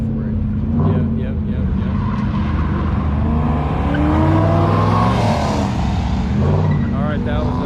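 A Chevy race truck roars around Bristol Motor Speedway, its engine note rising and falling steadily as it laps the track, loud and continuous with crowd and commentary voices mixed underneath.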